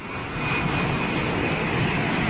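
A Boeing 787 Dreamliner jet at London Heathrow Airport gives a steady, loud, broadband roar with a thin whine, continuous throughout and free of talk.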